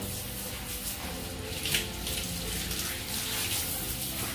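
Water from a Pet Wand Pro sprayer rinsing a dog during a bath, a steady continuous spray hiss running close to the microphone for the whole stretch.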